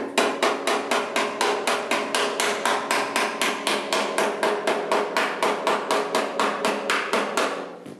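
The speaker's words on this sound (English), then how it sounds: "I will try and hammer" A hammer taps steadily from behind on a Ford Model T car body panel, roughly three or four sharp metallic strikes per second in an even rhythm, close and loud with no talking.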